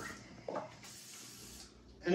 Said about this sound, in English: And you're just going to spray it in there. So this is called the kitchen spritzer.